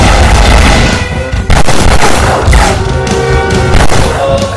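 Dense, loud gunfire and booming blasts in a war comedy film battle scene, rapid shots overlapping continuously with heavy low rumble throughout.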